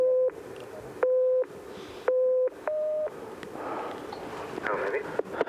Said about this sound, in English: now you know for this test, David, you're going to try and count the low tones and ignore the high tones